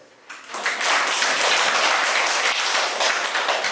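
An audience at a humanities lecture on Joseon scholar culture breaks into applause, starting abruptly after a brief quiet moment and holding as dense, sustained clapping to the end.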